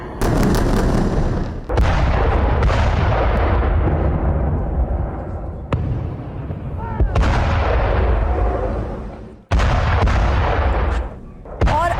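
Hamas rockets strike Israel, heard as a rapid series of loud, heavy explosions and booms that overlap and roll on one after another.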